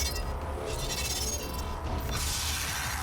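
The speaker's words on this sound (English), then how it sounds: "like saw blades running across the floor" Harsh metallic grinding and clattering of spinning saw blades scraping across a hard floor in the video game Doom (2016), steady and loud throughout with no speech.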